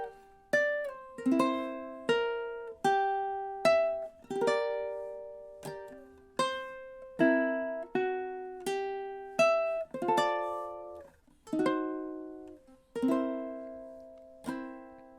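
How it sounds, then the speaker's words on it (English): A ukulele plays measures 9 to 11 of a song in time: a steady run of plucked notes and chords, each a bright attack fading before the next. It is clear and close, with no talk. "let's go ahead and listen to what 9, 10, and 11 should sound like in time"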